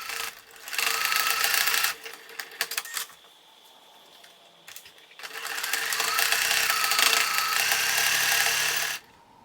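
A sewing machine runs in two bursts, each several seconds of rapid, steady whirring stitches, as it sews the side seams of a small, unlined drawstring bag made from fabric scraps. A quiet pause separates the runs.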